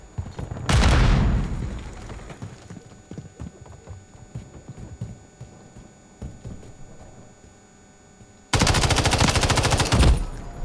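In the video game Modern Warfare 3, a sharp grenade blast decays early, then a quieter stretch of scattered sounds gives way to a long, loud burst of rapid automatic gunfire near the end.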